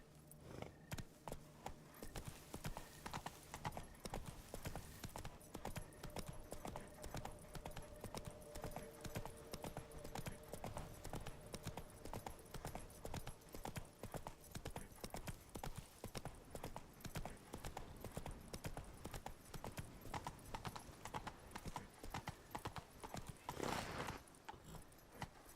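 A horse gallops in The Witcher video game. Steady, rhythmic hoofbeats clip-clop continuously throughout, at an even, moderate level.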